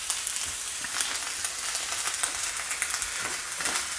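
Fat hen seeds being fried in a pan with shallots and greens, giving a soft continuous sizzle with light stirring scrapes, close and moderately loud, no voices.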